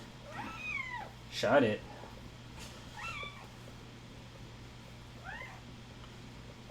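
A house cat meows a few times indoors, short rising calls spaced across the moment, near and moderately loud, with a person speaking briefly and a steady low hum underneath.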